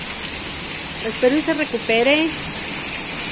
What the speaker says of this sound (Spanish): Y bendito Dios nos mandó la lluvia, miren. Miren cómo corre el agua.